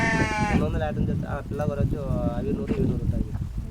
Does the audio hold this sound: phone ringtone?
no